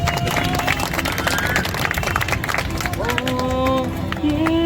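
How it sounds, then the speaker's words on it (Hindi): Crowd applause for Meenu Aunty at a public campaign gathering in Digha, a dense, continuous clapping over crowd noise, loud and close, with some voices and music-like tones mixed in. "एक बार मीनू आंटी के लिए तालियां बजा दीजिए"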